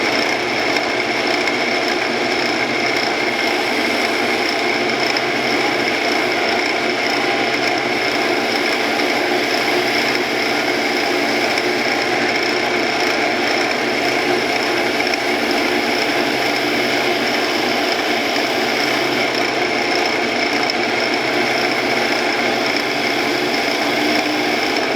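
Steady, continuous whir of a wood lathe spinning a pen blank while a skew chisel shears along it, holding an even level for the whole stretch with no talking.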